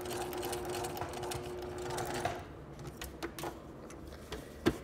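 A sewing machine runs steadily while stitching a princess line bodice seam, then slows into scattered clicks and a few sharp mechanical taps as the stitching stops.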